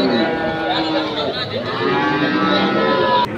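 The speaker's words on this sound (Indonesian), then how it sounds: "Dan sebelah sini juga ada sapi-sapi pedetan." Cattle at a rural Indonesian livestock market low steadily in a loud, sustained moo that fills the whole moment, close by over a busy market background.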